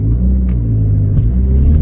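A turbocharged car tuned toward 400 horsepower, fitted with a bypass valve, gives a loud, close, steady engine rumble with faint, brief high chirps riding above it.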